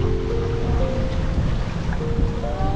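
Stormy seashore at Quilapay during a typhoon, with strong wind roaring and heavy surf crashing in a loud, continuous wash that stays steady throughout, the gusts buffeting the microphone.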